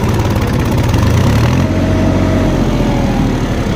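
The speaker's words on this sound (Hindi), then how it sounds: "ट्रैक्टर जो है बिल्कुल भी जोर मारने को तैयार नहीं है" A tractor engine labours under heavy load, its loud low rumble pulsing steadily and then settling into a strained, droning tone, close and continuous throughout.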